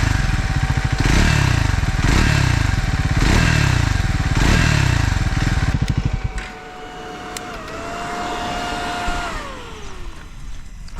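A Triumph Scrambler 400X single-cylinder motorcycle engine chugs loudly and rhythmically, then cuts off, leaving a steady whirring cooling fan that hums on and winds down.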